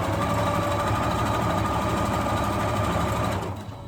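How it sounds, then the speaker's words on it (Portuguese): A sewing machine runs steadily, stitching a straight seam of fabric for a baby nest, with a close, continuous motor hum and needle patter that slows and fades near the end. "Vou costurar aqui mais ou menos uns 20 centímetros."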